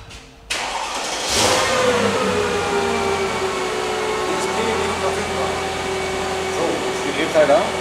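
A Mercedes E500 W211 V8 fitted with an LPG conversion starts up and settles into a steady idle, close and fairly loud, with a slight rise in pitch around the start and a continuous hum afterward.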